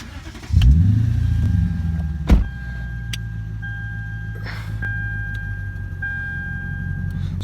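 A Lexus IS F with high mileage cranks and catches with a loud surge, then drops into a steady low idle, with a sharp click partway through and faint electronic chimes heard from inside the car.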